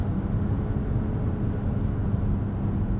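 Steady engine drone from a 2025 Nissan Rogue's turbocharged three-cylinder while driving: a constant low, rumbling hum with road noise, even in level and uninterrupted throughout, with no voices.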